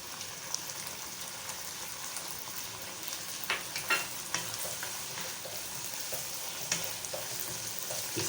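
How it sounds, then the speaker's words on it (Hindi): Khara masala qeema with finely chopped green chillies frying and being stirred over high heat, a soft continuous sizzle with occasional scraping clicks of the spoon, fairly quiet and close, with no voices. "आंच तेज़ करके अच्छे से भूनते हैं इसे।"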